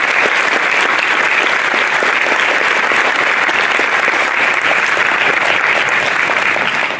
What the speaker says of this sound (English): So let's give our teachers and our principals a round of applause.